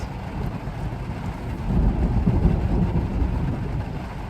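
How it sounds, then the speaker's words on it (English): Rain and a thunderstorm outside a van come through as a dense low rumble with steady patter, swelling louder after the midpoint as thunder rolls, heard from inside without speech. "As you can hear, it is raining. We are having a thunderstorm right now."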